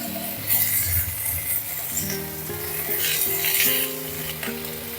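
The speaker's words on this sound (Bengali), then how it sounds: "আদাটা দিয়ে 2 মিনিট নেড়ে নিলাম" Ginger paste sizzles steadily in a pan with polta leaves and vegetables while a utensil stirs, a continuous frying hiss with soft scraping and a faint tonal hum underneath.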